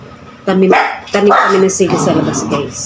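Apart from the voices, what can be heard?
dog barking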